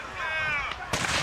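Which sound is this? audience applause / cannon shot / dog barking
cannon shot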